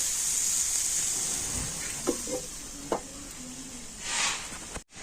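Mixed vegetables being stirred with garam masala powder in a pan, a soft steady sizzle with a few scraping spatula strokes and a brief clatter near the end.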